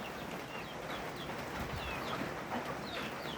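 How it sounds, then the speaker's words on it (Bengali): Native deshi chickens on a small backyard farm cluck intermittently over a steady outdoor background, with scattered chirps and calls and no speech. "এখানে মুরগি আছে, দেশি মুরগি"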